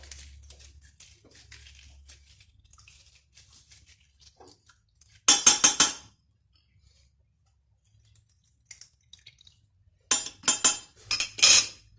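A utensil stirs cream ingredients, including lemon juice, in a bowl for a filled beignet. Two bursts of quick, close clinking and scraping stand out from near silence, with only faint handling sounds between them.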